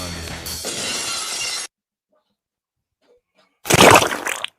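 Glass jar shattering with a sharp, loud crash and scattering shards, heard after a stretch of speech and a silent pause, the breaking burst ringing briefly before cutting off.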